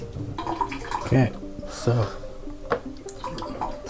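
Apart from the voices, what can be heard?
rinsing a cyanotype print in a tray of water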